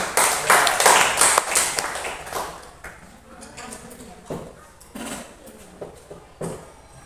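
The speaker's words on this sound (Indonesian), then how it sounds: "tepuk tangan untuk kelompok 1 dulu" A small group claps for a presenting team in a discussion session, a short burst of claps that thins into scattered taps, with people talking over and after it.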